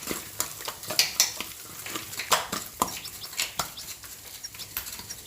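Minced mutton mixed with salt, chilli and curry masala powders is squeezed and kneaded by hand for mutton kola balls, producing close, irregular wet squelches and soft slaps.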